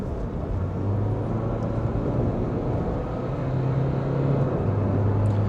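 Renault Clio diesel hatchback pulling away on a rough road, a steady low engine drone with rising tonal hum and constant road rumble, loud and close throughout.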